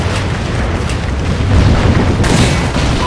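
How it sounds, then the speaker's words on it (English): A Trinity rocket strike in Call of Duty: Ghosts detonates as a massive, sustained roaring explosion, loud and dense with low rumble throughout and a fresh surge of blast noise near the end. "Friendly Trinity rocket inbound."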